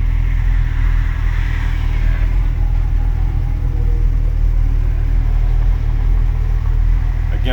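Small-block Chevy V8 in a 1955 Chevy hardtop, fitted with Holley Sniper EFI, idling at a light: a steady, loud low rumble from inside the car, running smoothly and alone with no talk.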